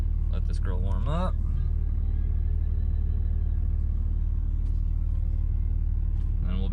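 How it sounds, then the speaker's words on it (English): An old Cummins diesel engine warms up at idle with a steady, low rumbling drone throughout, close and constant, and a brief rising whine or voice-like sound near the start. "We're letting the old Cummins warm up"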